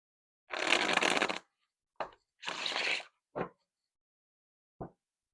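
Tarot cards being shuffled in two long riffling bursts, followed by a few short taps and snaps as the deck is squared, close and clear with no talking.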